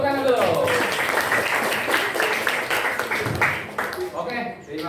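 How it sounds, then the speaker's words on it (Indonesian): A university class applauds together in a classroom, with dense, fairly loud clapping running throughout. Voices and chatter mix in beneath the clapping. "Tepuk tangan dulu."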